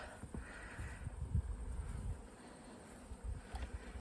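Honeybees buzzing around horizontal beehives, a faint, steady hum with a few louder passes of single bees close by, outdoors and without talk.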